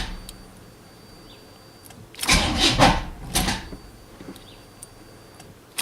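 A car engine cranks over slowly on a failing starter or weak battery, two labored bursts of grinding effort about a second apart, fairly close, amid a quiet background.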